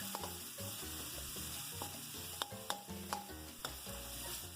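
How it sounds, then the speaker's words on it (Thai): Curry paste stir-fried in a little oil over low heat for a Thai papaya and minced pork curry, giving a steady soft sizzle throughout with scattered spoon scrapes and taps against the pan, close and without talk. "ก็จะผัดพริกแกงให้หอมก่อนนะคะ ก็จะใส่น้ำมันลงไปก่อนเล็กน้อย แล้วก็จะผัดไปจนกว่าเขาจะหอม"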